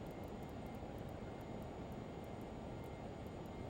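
Steady, close jet engine roar from a Learjet 35 in a flight simulator as it slows for approach, a continuous broadband whine with faint periodic ticks, no talking.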